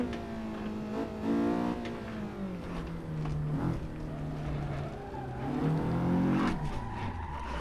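In a racing video game, a car skids and spins out across the finish line: engine revs rise and fall through repeated tire squeals over several seconds, with no talking.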